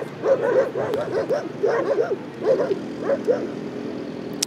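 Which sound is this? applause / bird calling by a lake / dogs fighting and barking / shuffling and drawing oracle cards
dogs fighting and barking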